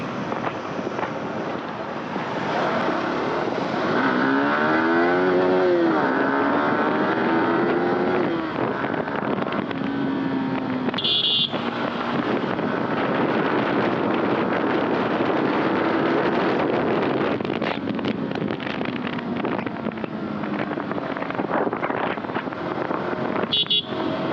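A Yamaha R15 V4 sports motorcycle being ridden, engine note rising and falling through the gears with steady wind rush, loud and continuous throughout with a couple of brief sharp bursts.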